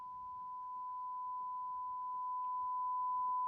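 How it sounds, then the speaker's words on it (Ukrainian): Steady, continuous test tone from the headphone output of an Olimp 005 reel-to-reel tape deck, a single pure pitch held unbroken throughout over a faint low hum. "Ви вже чуєте сигнал."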